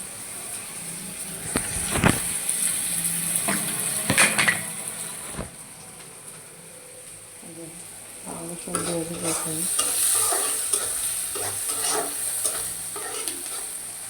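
Ginger and garlic fry in a pan for rohu fish bhuna, a continuous close sizzle with spoon scrapes and knocks against the metal, busier stirring near the end, no talking.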